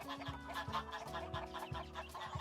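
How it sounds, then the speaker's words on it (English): Chickens from a flock of about 300 in two mobile coops cluck in a busy, rhythmic chorus, faint but close, with no talking over it. "So we've got about 300 chickens in 2 mobile coops."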